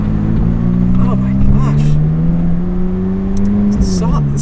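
A McLaren 600LT's twin-turbo engine pulls hard while accelerating, a loud close steady drone climbing in pitch with a shift near the end, heard from inside the car with someone talking over it.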